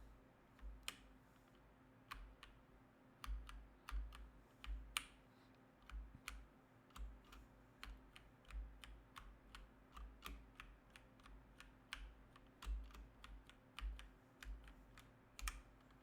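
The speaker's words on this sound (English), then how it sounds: "I'm gonna just give you a little bit of mechanical keyboard triggers" Close, quiet typing on a mechanical keyboard, with bursts of crisp clacking keystrokes in an uneven rhythm separated by short pauses, heard alone against a low background hum.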